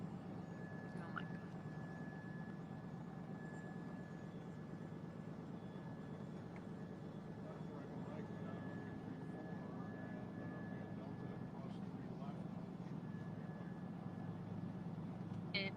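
Small single-engine airplane taxiing before an Angel Flight, a steady droning engine hum heard from inside the cabin, constant and moderately loud throughout.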